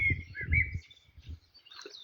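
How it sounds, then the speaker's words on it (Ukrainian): High chirping birdsong comes in short phrases at a resort village in Zakarpattia near the Carpathians, with a low rumble of other noise underneath at the start, moderately faint. "Пташки співають."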